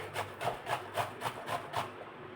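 Bottle gourd being grated coarsely by hand, about seven regular rasping strokes at an even rhythm, close and moderately loud, with no talking.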